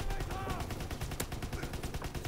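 Rapid gunfire from Call of Duty WWII, including a grease gun, crackles in dense continuous bursts with game effects layered underneath, loud and busy throughout.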